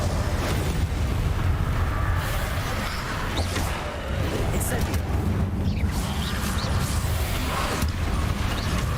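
Incendio fire spell cast in Hogwarts Legacy, dense roaring bursts of flame and crackling blasts that rumble continuously, loud and close, with a voice speaking over it.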